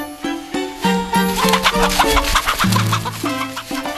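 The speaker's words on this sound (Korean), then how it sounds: "닭과의 쫓고 쫓기는 싸움이다" Chickens cluck and squawk loudly and repeatedly in a rapid, agitated series while being chased, with overlapping close calls and no talking.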